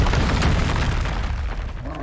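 A Bombarda spell detonates in the Hogwarts Legacy video game: a loud, deep booming blast with a heavy low-end rumble that rolls on steadily for about two seconds.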